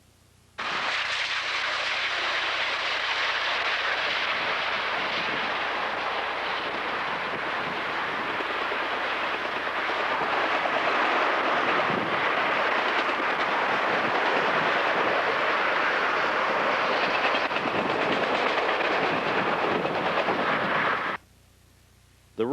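Steady rumble and rushing roar of a passenger train ride behind Union Pacific steam locomotive 844, continuous and loud from start to finish with no talking, cutting off abruptly at the end.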